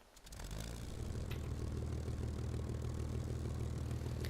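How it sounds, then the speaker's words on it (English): An aircraft engine in the War Thunder video game cranks briefly, then catches into a steady, loud droning hum that holds evenly to the end, with no voices. "I'm going to start up my engine."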